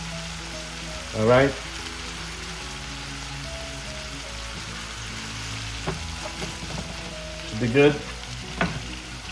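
Vinegar bubbling and simmering in a pan for Filipino escabeche, a steady seething fizz throughout with a few brief clinks, and someone talking briefly over it.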